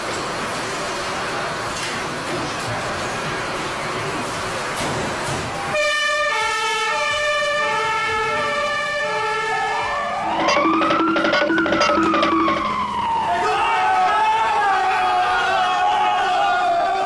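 Fire brigade engine sirens sounding as the crew responds to an emergency call, loud wailing and sweeping tones rising and falling, with horn toots and truck engine noise nearby.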